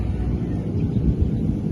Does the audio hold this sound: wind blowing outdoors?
yes